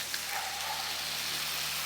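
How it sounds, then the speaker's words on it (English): Tomatoes and spices sizzle in a hot pan, a soft, even frying hiss that holds steady without breaks or voices. "Stir those in and just let that fry for a minute or so"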